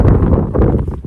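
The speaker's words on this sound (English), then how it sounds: "I'm going to turn around and you're going to hear the wind." Strong, cold spring wind buffeting the microphone in loud, gusty bursts of low rumble that rise and fall over about a second.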